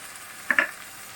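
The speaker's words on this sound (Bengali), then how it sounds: "আমি এবার একটু ভালো করে ভেজে নেব যাতে টমেটোর কাঁচা গন্ধটা না থাকে" Tomato, capsicum, cashews and raisins fry in a pan under a faint steady sizzle, broken by two quick stirring scrapes near the middle.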